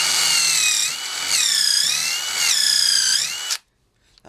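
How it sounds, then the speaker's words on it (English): An impact driver drives a number 10 countersink tapered bit into wood, whining loud and close in three surging bursts before cutting off sharply. "I'm going to try this number 10 countersink tapered bit, first in the impact driver"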